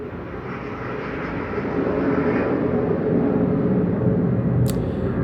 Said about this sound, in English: More airplanes.